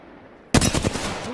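Sudden loud burst of rapid automatic gunfire in the video game Apex Legends, a dense close volley cutting in after near silence.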